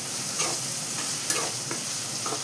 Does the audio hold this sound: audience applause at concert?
no